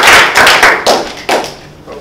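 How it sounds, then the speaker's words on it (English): Brief applause from a small audience at a Toastmasters speech evaluation session, a few bursts of clapping and thuds that fade quickly, with no talking over it. "Can I have a round of applause too?"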